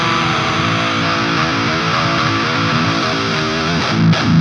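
A high-gain distorted electric guitar played through the Bloodpath amp plugin fills the clip with dense, saturated chugging riffs and sustained chords, loud and continuous, with no voices.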